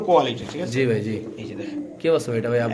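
A pair of Afghan Lowri pigeons coo in low, throaty, repeated calls close by, mixed with people talking.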